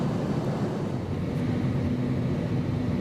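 Steady broad roar of an airliner descending toward Hanoi on an overcast monsoon-season day, a constant cabin drone with a low hum, continuous and even throughout with no talk.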